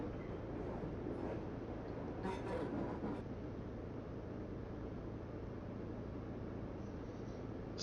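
A Class 142 Pacer train in the simulator game Train Sim 2020 hums with a steady, low, muffled drone, and a voice briefly talks over it partway through.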